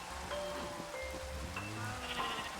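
Steady Minecraft rainfall makes a soft, even hiss through the whole stretch, with a few wavering animal bleats rising over it. No voices.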